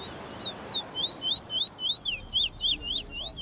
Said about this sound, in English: The notes that the birds sing are just pleasing to my ear.